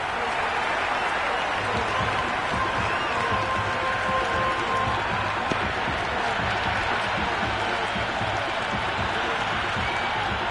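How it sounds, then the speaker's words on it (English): A dense, steady crowd roar from the video game Cricket 26 during an India vs New Zealand one-day match, with scattered applause and cheering, sustained throughout without a break, with faint commentary murmuring underneath. "The crowd are really getting quite raucous."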